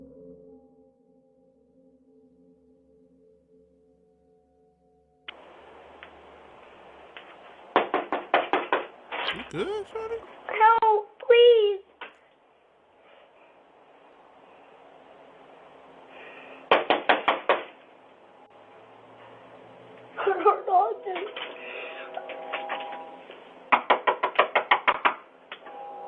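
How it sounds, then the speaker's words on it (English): A little girl raps on the door of an empty house in the middle of the night, sending several loud bursts of rapid knocking. Her frightened voice speaks between and over the knocks. "a little girl holding a flashlight and knocking on the door of an unoccupied house in the middle of the night"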